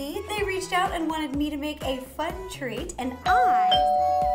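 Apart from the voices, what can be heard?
doorbell ringing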